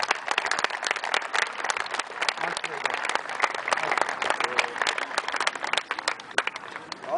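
An audience at a children's sports memorial award ceremony claps in a dense, steady round of applause. The clapping is close and lively and continues for several seconds without a break.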